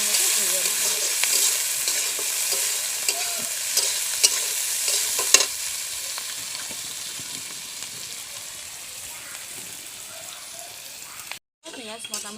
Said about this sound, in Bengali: এখন আমি পেঁয়াজগুলোকে ভালোভাবে ভেজে নেব।